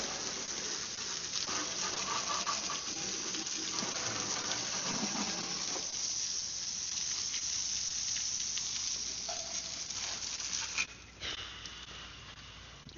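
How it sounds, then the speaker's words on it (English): Low-pressure, high-volume water sprays and splashes across a harvester during washing, a continuous hissing patter with a sharper burst near the end and no voices. "It just splashes everywhere."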